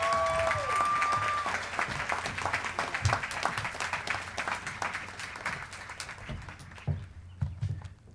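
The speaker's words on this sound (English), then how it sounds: "give a really loud round of applause" Loud applause from a crowd at a university spring commencement, dense clapping that thins toward the end, with a brief whistle near the start.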